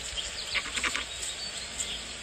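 Sheep and lambs on a farm during lambing season give a few faint bleats in quick succession, soft and somewhat distant against a quiet background.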